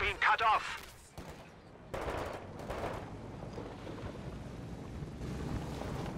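Video game battle in Company of Heroes 2 with bursts of machine gun fire and mortar impacts, fairly quiet, rattling volleys and a sharp hit amid low background rumble and noise.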